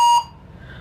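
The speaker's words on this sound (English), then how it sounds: "Position this so that the scanner can pick up the barcode. And once it does, mine beeps." A barcode scanner gives a single short, clear electronic beep after reading a barcode, followed by faint room noise.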